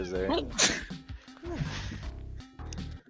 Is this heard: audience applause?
no